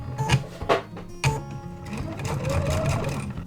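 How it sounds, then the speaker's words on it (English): A sewing machine stitches quilt block strips with a 1/4 inch foot, running in short bursts and then a steady whirring run, close and clear with no talking. "I'll just show you a close-up view from the sewing machine"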